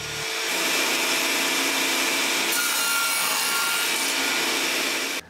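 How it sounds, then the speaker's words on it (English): Saw cutting wooden panel pieces for a handmade card box, set against a mitre gauge stop; a steady, loud, close whine of blade through wood running for about five seconds before cutting off. "I'm going to use the box to set up the stop on the mitre gauge, then I can get a couple of bits cut"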